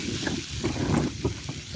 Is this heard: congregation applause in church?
no